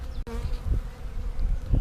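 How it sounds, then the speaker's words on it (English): A dense, steady buzz of a swarm of honey bees close to the microphone, droning continuously with small swells. "we've got a big old blob of bees in."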